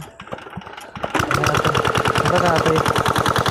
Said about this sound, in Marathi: इथं त्याचं इंजिन आहे ते स्टार्ट करायचं आहे